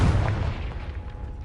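A Confringo fire spell blast in Hogwarts Legacy: one loud, close, booming burst of fire with a deep rumble that fades out over about a second.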